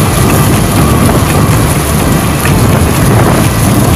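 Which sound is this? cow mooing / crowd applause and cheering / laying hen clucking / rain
rain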